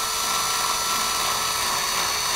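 A power drill bores into a wall stud to start a hole for Jeep door hangers, a steady high whine running the whole time, close and loud with no voices.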